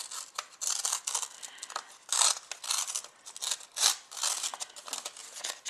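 A paper book page is torn slowly by hand at close range, making a long run of crisp, uneven ripping and crinkling bursts with no voices over it.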